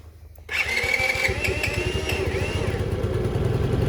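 A Venom X15 motorcycle engine catches after a quiet moment and settles into a steady, loud idle with rapid even pulses and mechanical clatter, running close by for several seconds.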